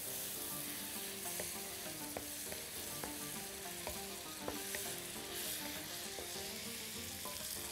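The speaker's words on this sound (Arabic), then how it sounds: "نقلبها كويس قوي" Vermicelli and meat fry in a pan with a steady, close sizzle, while a utensil stirring through them adds repeated scraping clicks and taps at an uneven rhythm.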